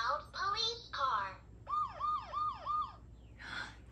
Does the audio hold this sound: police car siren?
yes